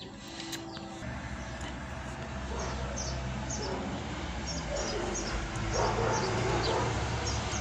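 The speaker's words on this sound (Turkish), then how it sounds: "Kedi karşımızda havlamalar da var." Dogs bark in the distance, faint and intermittent over steady background noise, with a few high chirps mixed in.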